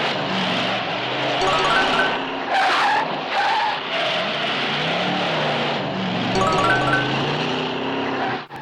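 A car racing and skidding in a movie chase from Death Race: a loud, continuous roar of engines with long wailing tire squeals rising and falling over about eight seconds, and no voices.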